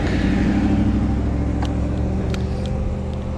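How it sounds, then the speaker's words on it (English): A truck passing on the road beside an e-bike rider, a loud, steady low engine rumble and road roar close by with a few faint clicks, no voices. "Watch this truck."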